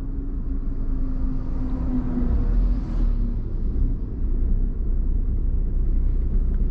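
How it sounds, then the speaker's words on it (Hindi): A Tata Punch pulls away gently in second gear with little throttle, its engine a low, steady rumble and hum close by, with a faint whoosh rising midway and no talking. "तो भाई गाड़ी को एक बार दूसरे गियर में लगा लेता हूं और अब गाड़ी को उठा के देखता हूं"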